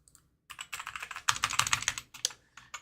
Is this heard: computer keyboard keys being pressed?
yes